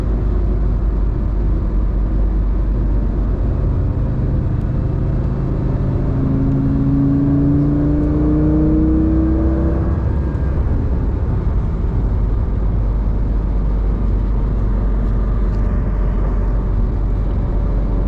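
A Lamborghini Gallardo engine drones loudly from inside the cabin, its exhaust note rising and falling as it drives along with a steady road rumble.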